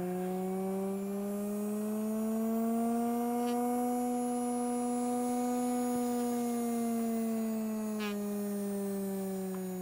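A small DC motor driven through an L293D by an ESP32 hums steadily, its whine rising and falling gently as the speed changes, with two faint clicks along the way.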